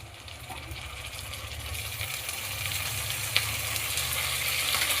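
Chicken pieces fry in hot oil for a chicken and potato curry, a steady, dense sizzle that grows slightly louder over time, with one brief metallic clink partway through.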